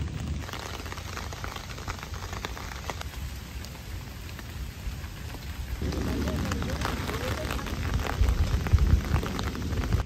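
Steady rain falling in a forest, a dense hiss of drops that grows heavier and louder in the second half, with no voices.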